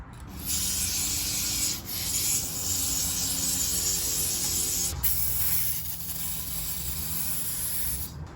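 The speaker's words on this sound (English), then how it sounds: "So I got like some sandpaper here" Sandpaper rubbed by hand over a part of an RB25 engine during an oil modification. A steady, close abrasive hiss runs almost the whole time, broken by brief pauses between strokes.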